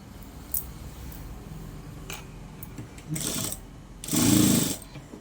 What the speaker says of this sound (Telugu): ఇప్పుడు పైనుంచి టాప్ స్టిచ్ అనేది వేసుకురావాలి, ఇది కంపల్సరీ.